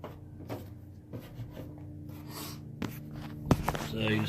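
A pen or pencil traces the outline of a paper template taped onto a 1967–72 Chevrolet C10 truck door panel, giving soft, close scratchy strokes with a few light knocks and some handling noise.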